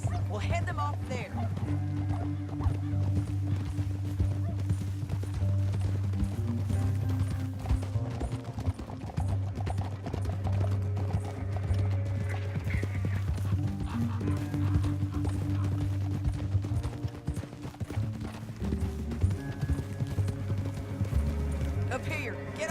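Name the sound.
horse hooves galloping, from video game Red Dead Redemption 2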